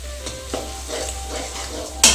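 Spice paste for brinjal siraji fries in oil in a pan, a soft steady sizzle with a few light stirring scrapes, ending in a sharp louder hiss in the final moment.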